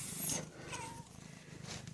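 Freshly fed cats purr softly and steadily at a farm with alpacas, a low rumbling texture close by with a brief higher vocal sound near the start and faint rustling throughout.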